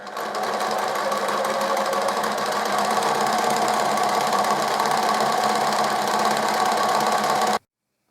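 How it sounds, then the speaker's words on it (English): A sewing machine runs steadily and loudly close by, stitching bias binding along a crease in one continuous buzzing run that stops abruptly near the end. "We've sewn all the way along this crease to put on our bias binding"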